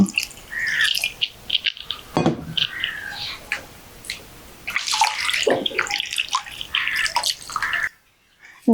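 Fish rinsed in water in a home kitchen before cooking a Sri Lankan style fish curry: splashing, sloshing and dripping with handling clatter, close and fairly loud, with a short silent gap near the end.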